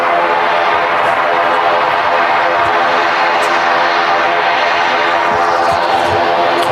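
A propeller aircraft at Manchester Airport drones loudly and steadily at close range, a continuous engine and prop roar with no voices.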